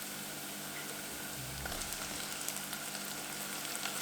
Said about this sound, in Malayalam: ഇനി ഞാൻ അതിലേക്ക് നമ്മൾ ചെറുതാക്കി കട്ട് ചെയ്ത് വെച്ച ഒരു തക്കാളി ഇട്ട് കൊടുക്കുക